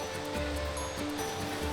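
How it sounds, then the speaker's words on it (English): A kayak moves through wild water inside a cave, where a continuous turbulent rush and churn of water fills the space, fairly faint but constant, with no voices. "So I'm paddling through the cave, I'm like, come on, let's go."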